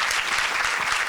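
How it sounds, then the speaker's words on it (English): Brief burst of audience clapping for panelists at a youth development convention, many hands applauding densely and evenly. "Can we please give them a round of applause?"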